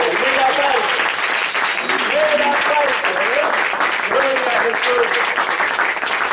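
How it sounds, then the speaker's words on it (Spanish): A church congregation claps loudly and steadily the whole way through, a dense wash of applause, while a voice speaks and calls out over it. "Denle un aplauso al Señor Jesús."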